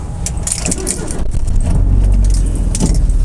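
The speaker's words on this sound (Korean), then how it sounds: "시동 잘 걸려" An old car's engine cranks and catches at a highway rest stop, jangling keys at first, then a low rumble swelling into a steady idle, close and loud, with a voice briefly heard.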